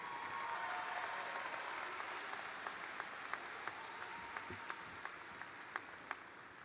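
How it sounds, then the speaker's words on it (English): An audience applauds steadily at a high school graduation ceremony, following the symphonic band's processional. The sustained, distant clapping fills the hall, with a few sharper individual claps standing out toward the end. "Please join me in another round of applause for Mr. Andrew LaRose and Miss Sarah Wilson and our North High Symphonic Band"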